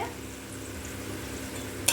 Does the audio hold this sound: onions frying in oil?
yes